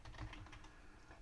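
Fingers type a short burst of keystrokes on a computer keyboard, with soft, fairly quiet clicks in quick succession and no talking.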